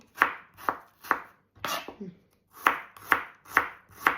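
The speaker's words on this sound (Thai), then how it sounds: "หั่นหอมก่อน" Steady knife chops through shallots on a cutting board, about two per second with a short pause midway, crisp and close with no talking.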